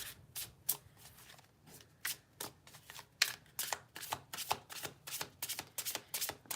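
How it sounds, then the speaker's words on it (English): A deck of tarot cards is shuffled close up in a quiet room, with repeated quick riffling bursts in an uneven rhythm and no talk. "we'll do one more shuffle"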